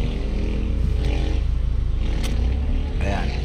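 A Mitsubishi Lancer with a 4G92 engine idles rough and uneven, misfiring with a steady low throbbing drone that stays loud and close throughout, with faint clicks and scrapes over it.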